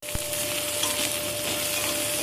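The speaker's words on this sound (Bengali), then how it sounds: "চিংড়ি মাছটা আমার এখানে ভাজা হয়ে গিয়েছে" Prawns fry in hot oil in a pan, giving a steady, close sizzle of dense crackling that runs continuously, with a faint clink near the start.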